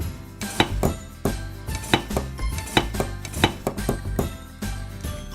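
A knife dices an onion on a cutting board with steady, close rhythmic chopping, about a dozen crisp knocks in a quick even beat, loud and clear with no talking.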